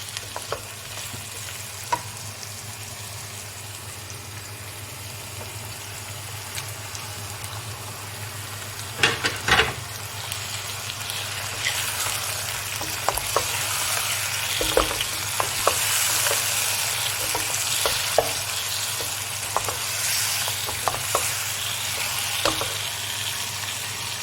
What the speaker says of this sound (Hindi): अब इसमें हम शामिल करेंगे शलजम और पालक।